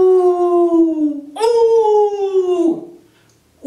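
A human voice imitates a wolf howling: two long, loud, sustained howls, each sliding slowly downward in pitch, followed by a brief quiet trailing off.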